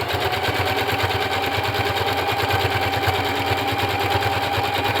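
A sewing machine stitches fabric along a line, its rapid, steady mechanical chatter running continuously at an even rhythm and close by.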